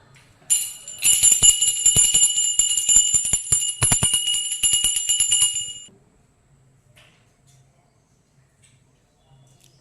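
A small hand prayer bell rings rapidly and continuously for about five seconds, bright and close, then stops, leaving near silence.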